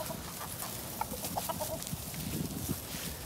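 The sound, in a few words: chickens clucking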